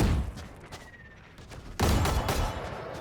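Rapid gunfire from Guardian and Vandal rifles in a Valorant tournament match, a burst of shots that turns into a louder, dense exchange of fire partway through.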